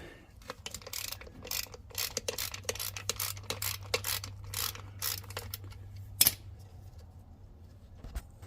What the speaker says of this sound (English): you're going to need to take off this 10mm bolt right here